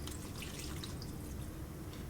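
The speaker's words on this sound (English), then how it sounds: "and then pour it in enough that it covers" Homemade sriracha beef jerky marinade pours steadily into a bag over sliced steak, a continuous wet splashing and trickling close by with no talk.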